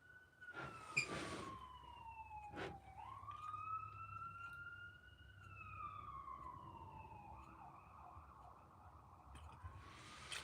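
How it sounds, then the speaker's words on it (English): Emergency vehicle sirens wail in the distance, a long rising and falling electronic tone that shifts pitch and overlaps a second siren, faint but clear, with brief bursts of nearby noise. "Sirens."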